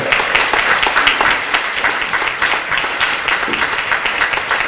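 Warm, sustained applause for a mixed choir's 80th anniversary celebration in Mielec, a dense steady patter of many hands clapping close by with no talk over it.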